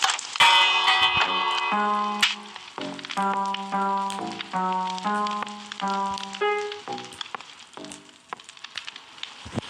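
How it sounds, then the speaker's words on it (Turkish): Bright, ringing bell tones in Minecraft strike in quick succession, forming a short melodic pattern with clear sustained overtones, loud and close. "Bakın burada zil var."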